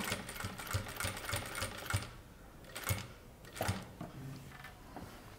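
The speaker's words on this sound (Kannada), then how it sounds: "ಸೊ ನಾನು ಇಲ್ಲಿಂದ ಇಲ್ಲಿ ಸ್ಟಿಚ್ ಮಾಡಿಕೊಂಡು ಇಲ್ಲಿ ಮುಗಿಸ್ಬೇಕು." A sewing machine stitches a placket on garment fabric, its quiet, faint rattling run coming in short bursts with brief pauses between them.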